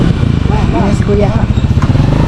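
A motorcycle engine runs close by with a steady, throbbing putter under a voice speaking over it.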